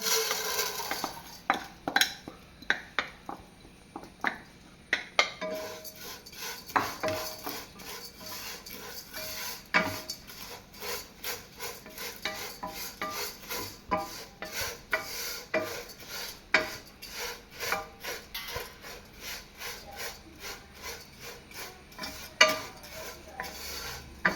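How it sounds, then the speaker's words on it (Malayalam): Dry vermicelli (semiya) is stirred and toasted in a pan, with repeated scraping and rustling strokes of a spoon against the metal in an irregular rhythm, close and fairly quiet. "സേമിയ ഒന്ന് ചൂടാക്കി എടുത്തിട്ട് വേണം"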